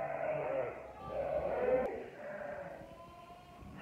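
A ewe and her newborn lamb bleat during lambing on a farm, a few close, wavering calls rising and falling across the moment, with some quieter background noise between them.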